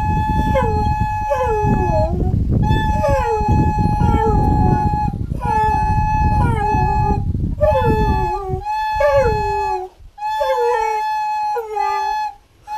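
A dog howls in a long series of rising and falling, song-like wails, close and loud, with brief pauses between phrases and no human speech.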